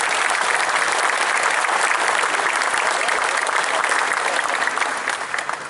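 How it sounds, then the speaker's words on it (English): A crowd gathered in a stadium rotunda for a statue unveiling claps loudly and continuously, a thick sustained burst of applause that fades a little at the close. "Let's give them a big round of applause."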